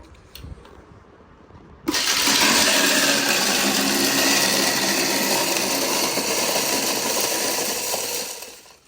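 After a brief quiet start, a home ice shaving machine whirs to life abruptly with a loud, steady grinding buzz as it crushes small ice chunks, holding for several seconds before tapering off.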